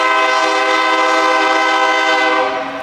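A train horn blares from railroad tracks across the street from a golf course during a city championship round, one long, loud, sustained chord that holds steady and begins to fade at the end.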